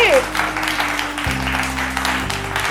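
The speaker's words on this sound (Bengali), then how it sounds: "আর জোর হাততালি টিম বি।" An audience at a jewellery store family contest event claps loudly and continuously for about three seconds, with a voice speaking briefly over the start of the applause.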